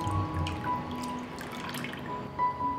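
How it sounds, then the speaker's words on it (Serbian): Lemon juice trickling and dripping into a bowl of water, a brief soft pour with small drips standing out near the end. "Zatim ću sok od limuna sipati u vodu."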